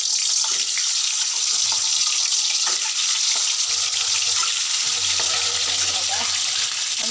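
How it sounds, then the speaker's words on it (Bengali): Eggs, scored on all sides with a knife, fry in hot oil in a kadai, producing a loud, continuous crackling sizzle with scattered sharper pops throughout. "এক এক করে আমি ডিমগুলো ছেড়ে দেবো।"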